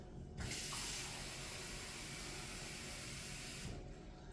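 Water streams steadily from a tap into a measuring cup for about three seconds, close and continuous, with no talking.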